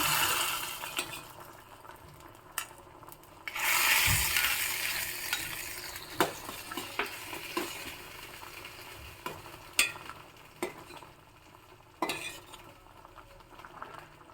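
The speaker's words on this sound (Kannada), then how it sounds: "ಈಗ ಇದಕ್ಕೆ ಕೊಬ್ಬರಿ ಎಣ್ಣೆ ಸಾಸಿವೆ ಇಂಗು ಕರಿಬೇವು ಮತ್ತು ಒಂದು ಒಣ ಮೆಣಸು ಹಾಕಿ ಒಗ್ಗರಣೆ ಹಾಕ್ತಾ ಇದ್ದೀನಿ" A tempering of coconut oil, mustard seeds, asafoetida, curry leaves and a dried red chilli hits a pot of drumstick curry with a brief sizzling burst, followed by scattered clinks and scrapes of stirring.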